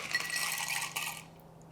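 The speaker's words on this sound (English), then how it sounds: "On top of that, we are going to add our ice." Ice cubes clinking into a glass that holds orange syrup, a short bright clatter of a few knocks that ends abruptly and leaves quiet.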